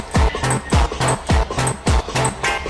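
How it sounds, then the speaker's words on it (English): Ping pong ball repeatedly spat out, bounced off a wall and caught in the mouth during a world record attempt, giving a quick regular series of hollow pops and taps about twice a second, close and alone. "spitting out a ping pong ball, it bouncing against the wall, and then he's catching it in his mouth again"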